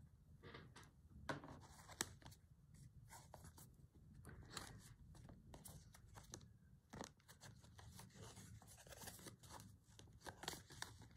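Scissors snip embroidery thread on a slow-stitch fabric piece, producing a string of soft, close, irregular clips with light fabric rustle between them, quiet throughout and without talk.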